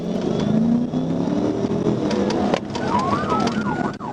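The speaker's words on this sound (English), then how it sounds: "Officers immediately activated their emergency lights and sirens" A police car siren wails, sweeping up and down over the roar of a revving car engine during a high-speed chase, loud and close, the siren emerging partway through.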